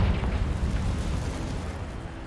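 Confringo fire spell blasts in Hogwarts Legacy, a steady rumbling roar of fiery explosion that stays loud and dense throughout with no pause, no voices over it.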